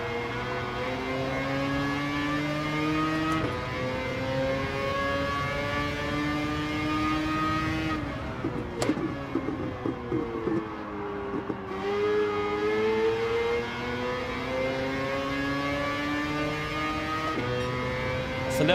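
The Lexus LFA's V10 engine in Gran Turismo 7 howls through rising gear pulls, with upshifts and a brief lift-off before it revs hard again, sounding loud and close with no voices.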